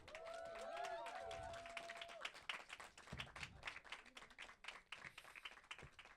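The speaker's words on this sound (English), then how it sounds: "Clap it up for her." An audience claps and cheers for G.Denise, a spoken-word poet in a red dress, at a poetry performance; dense applause runs throughout, with a loud whoop and talk over the first couple of seconds.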